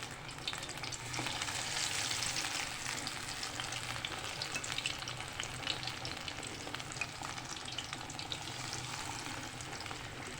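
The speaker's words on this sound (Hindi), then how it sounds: "ये फ़िश जो है 1 बाय 1 डाल के फ्राई करना शुरू करूँगी" Fish pieces coated in cornflour and gram flour fry in hot oil in a kadhai over a medium flame, giving a steady, close sizzle and crackle with no talking.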